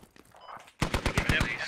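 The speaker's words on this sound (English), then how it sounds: "just fire a couple shots into the distance to just scare the enemies" Automatic gunfire in the Squad video game: after a faint opening, a loud rapid burst of about seven sharp shots in steady rhythm, close and punchy.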